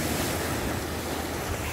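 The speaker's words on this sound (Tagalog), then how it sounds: "Kita nyo naman ang napakasarap sa tengang alo ng mga tubig na yan." Ocean waves lapping and washing steadily close by, a continuous broadband rush with wind buffeting the microphone and no voices.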